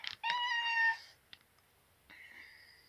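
A cat meows twice outdoors, one longer cry followed after a pause by a second drawn-out meow, fairly close and clear against a quiet background.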